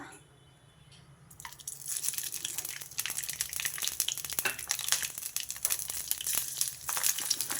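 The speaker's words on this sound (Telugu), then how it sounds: "కొంచెం దూరంగా ఉండి వేయించుకోండి ఆ పచ్చిమిర్చి గింజలు చిట్లి మీద పడతాయి" Torn green chillies crackle and spit in hot oil, starting after a quiet moment and building into a dense, steady stream of sharp pops and sizzling that carries on with no voices.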